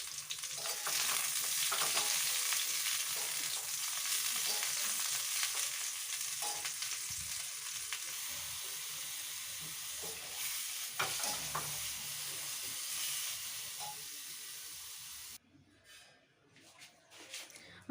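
Cauliflower and potato curry frying in oil left over from frying potatoes in a home kitchen, with a steady close sizzle and occasional stirring scrapes throughout, fading to quieter sounds near the end.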